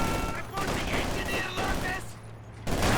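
PPSh submachine guns fire during a Company of Heroes 2 match. Dense bursts of overlapping gunfire continue without a break under a voice talking.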